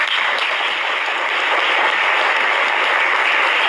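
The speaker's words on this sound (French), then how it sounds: "Et les gens applaudissent." A studio audience applauding on a French-language television talk show, with steady dense clapping that stays loud and even throughout.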